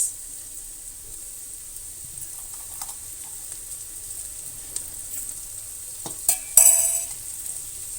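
Carrots are tossed into a pan with golden onions and sizzle softly as they are stir-fried for nasi goreng kampong, with a few clinks of a utensil against the pan near the end.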